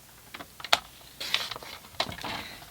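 A piece of card being cut to length with a paper trimmer, a few quick, faint clicks and a short slicing swish, close and quiet.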